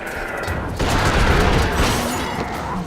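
TNT sticks blowing up in the video game The Suffering, a loud sustained roar of blasts and rumbling debris swelling near the start and filling the whole stretch.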